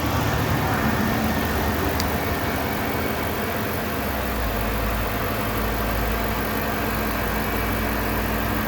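A V8 Hemi engine in a used police car idles steadily with a low, even rumble and faint ticking, continuous and close, with no talking over it.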